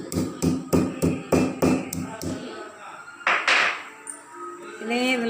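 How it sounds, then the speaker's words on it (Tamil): Spice ingredients for a homemade kashayam are pounded by hand, about eight sharp, evenly spaced thuds in a quick rhythm up close, followed by softer clatter and faint kitchen sounds. "இப்போ இதை இடித்து அதில் போட்டுக்கிறணும்"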